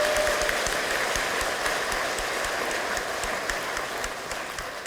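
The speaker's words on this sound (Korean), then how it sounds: "여러분 큰 축복의 박수, 축하의 박수 보내주시기 바랍니다." A crowd at a provincial governor's inauguration ceremony claps steadily in a broad, continuous wash of applause that holds at an even level and fades slightly toward the end.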